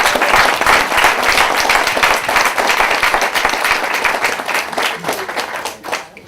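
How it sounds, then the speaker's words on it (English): An audience at a greenhouse dedication ceremony applauds the growers with dense, steady clapping that stays loud and sustained, then thins and fades out near the end. "each and every one of them deserves their own round of applause"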